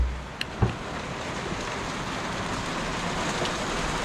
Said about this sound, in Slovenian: Evo prednost katamarana, pada dež, si na suhem